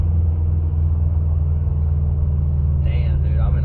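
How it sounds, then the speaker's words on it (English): Turbocharged Subaru STI with a tuner, its engine rumbling steadily and loud from inside the cabin, a deep continuous drone with a brief higher sound near the end. "I'm in a badass fucking Subaru STI turbo supercharged"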